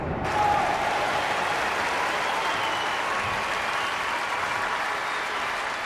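A stadium crowd in the London 2012 video game applauds a diving event, a sustained wash of clapping that swells at the start and carries on evenly.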